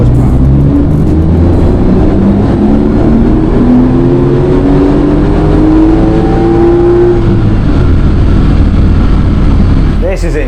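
A Porsche 911 Turbo S engine revs hard on a dyno run, a loud, sustained roar climbing steadily in pitch toward its limit, then cutting off abruptly near the end.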